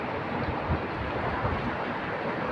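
Strong wind and rain roaring as a steady, dense rush of broadband noise with wind buffeting the microphone, continuous and close, no voices.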